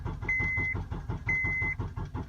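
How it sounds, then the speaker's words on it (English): A 2005 Honda Accord fails to start as the key is turned, giving a rapid, steady clicking with two longer electronic beeps and no engine catching. "Car won't start, but in fact, I'll just let you see what happens."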